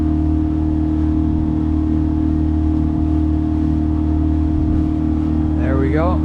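A small kicker outboard motor pushes a boat on autopilot on a river, a steady continuous drone that stays loud and even throughout, with a brief whistling or squeaky sound near the end.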